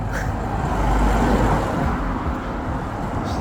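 Cars pass along a street in a historic English town, giving a continuous, moderately loud roadway rush that swells and eases without a break.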